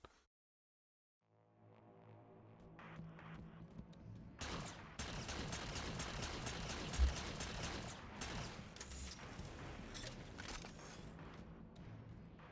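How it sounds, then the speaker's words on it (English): Plasma turrets and rapid-fire Covenant weapons blaze away in Halo 4, a dense, sustained barrage of overlapping shots and bursts that starts after a quiet moment and stays loud throughout, no talk. "these plasma turrets and, like, rapid-fire Covenant weapons sound so piddly"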